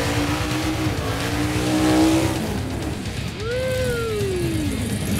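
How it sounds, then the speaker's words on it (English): A 1984 Chevy S-10 does a burnout at a drag strip, its engine roaring loudly and close while tires squeal, with a rising-and-falling whine partway through. "The burnouts never lie."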